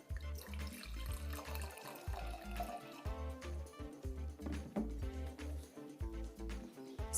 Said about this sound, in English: Let's pour some of this lovely stuff out.